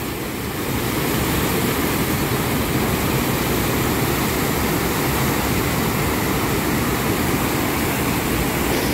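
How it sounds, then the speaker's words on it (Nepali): Steady, loud rush of clear water pouring over a dam on the Khardu drinking water project, a continuous broadband roar that holds unbroken from start to finish with no voices. "यो पानी यसरी ड्याम नागेर गइरहेको छ"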